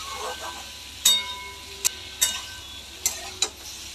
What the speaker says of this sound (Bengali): এর সাথেই নেড়ে নেড়ে একটু ভাজা ভাজা করব।